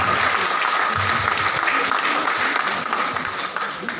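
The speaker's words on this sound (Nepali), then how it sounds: "एकपटक आफूलाई ताली बजाइदिनु होला" An audience at a celebration event in Kathmandu claps loudly and continuously in a dense, sustained burst that eases off slightly toward the end.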